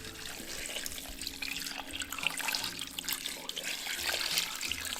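Water pours steadily into an Instant Pot holding beef pieces, carrots, garlic cloves and bay leaves, a continuous splashing stream running close by for several seconds with no talking.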